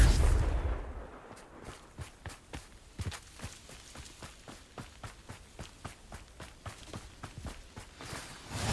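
Confringo fire spells in a video game erupt as a rapid, steady string of sharp blasts, each one brief and punchy, repeating evenly for several seconds without talk.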